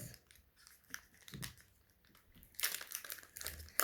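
A snack pulled from its torn-open wrapper in bursts of crinkling plastic, with crisp crackling that grows louder and denser toward the end, close and alone without speech.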